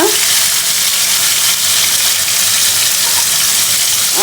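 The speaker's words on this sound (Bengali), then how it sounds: "পেঁয়াজটাকে এরকম করে ভাজার পরে এখানে মাছগুলো দিয়ে দিলাম আর হলুদ লবণটাও দিয়ে দিচ্ছি" A loud, dense sizzle of fish frying with onion, turmeric, salt and garlic paste in a hot pan fills the whole stretch as a constant hiss without a break.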